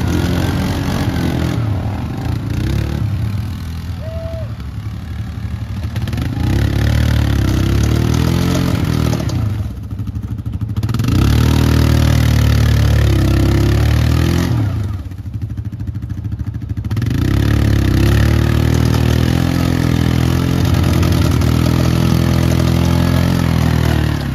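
A Yamaha Big Bear ATV engine runs close by with a rough, throbbing idle that swells into several revving surges and eases back between them, loud and continuous with no talking.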